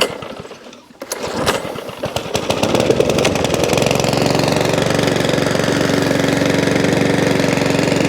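A salvaged Mountfield 414/416 petrol lawnmower is pull-started: a few rough cranking bursts, then the small engine catches and settles into a loud, steady idle that runs evenly with no hunting.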